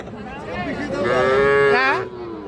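A four-month-old calf at a cattle market gives one loud, close moo, rising and holding for about a second and a half before cutting off, with faint market murmur behind it.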